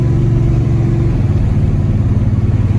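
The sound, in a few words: Dodge Ram 1500 Magnum V8 stroker with homemade exhaust driving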